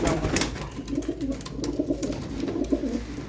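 Several pigeons coo steadily in a loft kept by a pigeon fancier, low throaty calls overlapping in a continuous murmur close by, with no talking.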